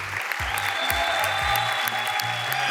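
Studio audience at the Albanian TV song contest Kënga Magjike applauds in a dense, steady burst of loud clapping with a faint musical tone underneath.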